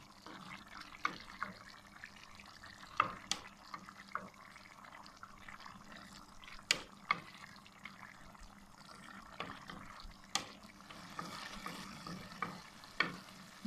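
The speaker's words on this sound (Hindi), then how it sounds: "इसी तरह ऊपर ऊपर से दोबारा से मिक्स करेंगे" A spoon stirs and scrapes mutton pulao in a pot after leftover yakhni stock has been poured in, with soft wet sizzling and intermittent louder scrapes against the metal at a quiet, close level.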